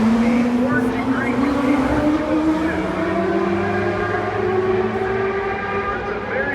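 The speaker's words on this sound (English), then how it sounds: "Rotary powered machine make its way over here to shoreline." A rotary-powered Ford GTP prototype from around 1991 roars past at a historic Camel GTP race on the Long Beach street circuit, a loud sustained engine wail with pitch slowly rising, heard close and continuous throughout.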